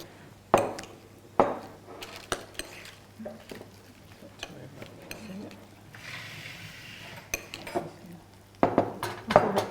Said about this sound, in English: So you spoon it back into the empty shell.